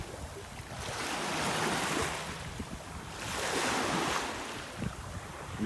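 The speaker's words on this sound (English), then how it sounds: "When the waves are here and they're up on the wall." Floodwater waves surge and wash against a wall in two broad swells, loud and close, with gusty wind buffeting the microphone throughout and no one speaking.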